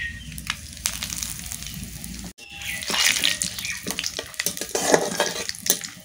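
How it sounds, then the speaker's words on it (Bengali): Whole spices including cloves, cardamom, cinnamon, cumin, dried chilli and bay leaf tempering in hot oil, a close crackling sizzle that flares after a short break, with spattering pops and a pan clink. "তেল গরম হয়ে গেছে, ফোড়নে দিয়ে দিচ্ছি গোটা গরম মশলা"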